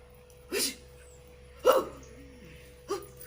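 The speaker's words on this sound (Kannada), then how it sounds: "ನಾಯಿ" A dog barks three times, short and spaced apart, against a quiet steady hum.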